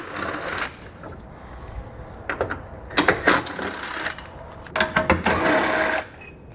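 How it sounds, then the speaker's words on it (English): Ratcheting socket wrench with a 12 mm socket loosening bumper beam bolts on a vehicle during a trailer hitch install, heard as several bursts of rapid clicking ratchet strokes, close and fairly loud with short pauses between. "We'll remove each of those with a 12 millimeter socket."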